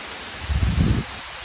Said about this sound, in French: On passe vraiment derrière la cascade.